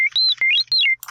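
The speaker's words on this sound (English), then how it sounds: "if I change the pitch of that sine wave" A pure electronic tone sweeps up and down in pitch several times in quick glides, ending with a short burst of buzzy noise.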